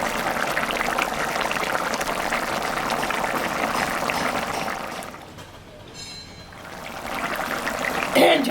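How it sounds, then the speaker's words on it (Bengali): A pot of thin country-chicken curry broth bubbling on the stove, a steady soft boiling and simmering texture that dips briefly toward the middle, with a small clink near the end. "ঝোলটা ফুটে গেছে আর হয়েও গেছে"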